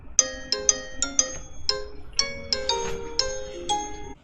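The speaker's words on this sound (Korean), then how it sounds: "네, 그러면 전화를 걸어보도록 하겠습니다." A telephone ringtone plays while a call is being placed, a loud, close melodic chime of bright bell-like notes struck in a quick, steady rhythmic pattern, with no voices.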